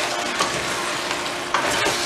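Crab stew seasoned with kankan spice being stirred in a pan: a steady sizzling bed with a few louder scrapes and clinks of the spoon, close up, and no voices.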